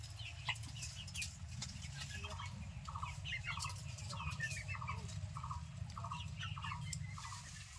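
Chickens gathered for onion scraps, clucking and calling softly in a rhythmic series of short notes over a low, steady outdoor background.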